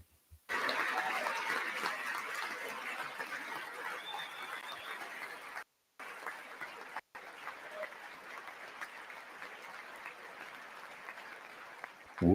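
Republicans on one side of a large room clap steadily for about twelve seconds, a dense sustained roar of many hands with two abrupt brief dropouts.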